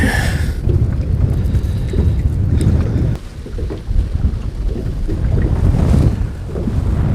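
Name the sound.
wind blowing over a lake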